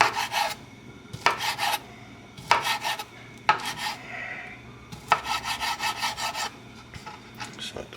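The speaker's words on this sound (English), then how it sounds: "cut it up in small sections like that. Nice and gently. Let the knife do the work." Knife slicing seafood into small sections for a seafood boil, heard as a run of gentle rasping strokes against a cutting board in short bursts, close up with faint kitchen background noise.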